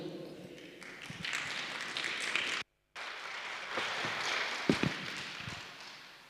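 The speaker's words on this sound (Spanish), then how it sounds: "vamos a recibir con un fuerte aplauso" Church congregation at an afternoon service gives sustained, fairly faint applause, broken by a brief silent gap, with a few sharper claps and a little talk.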